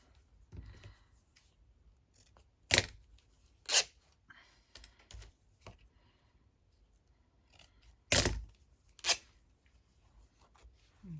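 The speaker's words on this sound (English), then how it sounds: "here's some tea-dyed fabric already cut into a circle, but we're going to rip that" Tea-dyed fabric, already cut into a circle, is torn by hand in several short, sharp rips, some single and some in quick pairs, separated by quiet handling noises.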